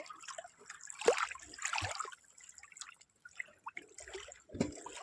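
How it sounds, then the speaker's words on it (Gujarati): Water babbling and trickling along the edge of a village dam, quiet close splashes and drips arriving in uneven bursts with short lulls between them. "ખળખળ તો જો કિનારામાં કેમ થઈ ગયો."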